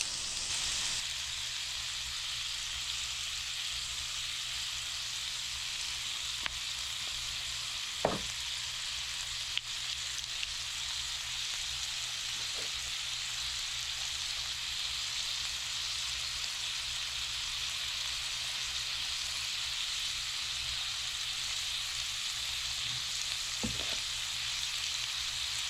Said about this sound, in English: Now I'm going to continue to brown this until it's completely brown, no pink inside.